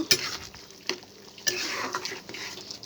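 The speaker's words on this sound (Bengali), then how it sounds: "বা একটু নাড়াচাড়া করে নেব।" Masala chicken curry being stirred in a pan, a spoon scraping and knocking against the metal in a few sharp clinks over a soft, steady sizzle, close and moderately quiet.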